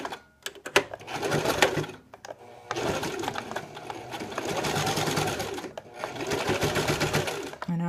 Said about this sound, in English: I'll just start sewing right there at the edge